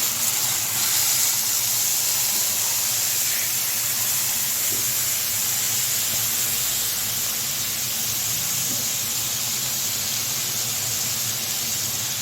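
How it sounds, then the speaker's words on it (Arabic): Tomato and pepper mixture poured over a breaded cutlet cooking in a pan, a loud continuous sizzling hiss that holds steady for about twelve seconds with no talk. "اول ما تاخد لون كده يا حبايبي هننزل عليها خلطة طماطم بفلفل"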